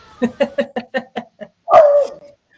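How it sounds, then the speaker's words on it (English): Several dogs bark in a quick run of about seven sharp yaps, then a longer drawn-out howl or whine, close and loud with no talking. "I got the dogs cheering now."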